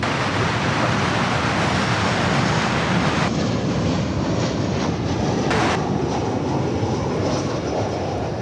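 An American passenger jet arriving at DFW Airport from Albuquerque roars with loud, broad engine noise that persists steadily, with a brief surge partway through and no talking.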